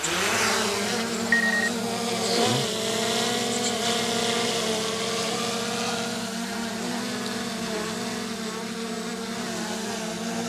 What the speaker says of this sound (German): Aufnahme starten und das Fluggerät starten